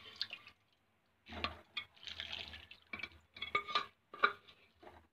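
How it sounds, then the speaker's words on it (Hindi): Water from boiled black chickpeas is drained through a strainer into a bowl, giving faint, intermittent splashing and trickling bursts with soft metal clinks and short pauses between them. "जो ये हमने चने बॉईल किए हैं उसका मैं पानी निकाल दूंगी।"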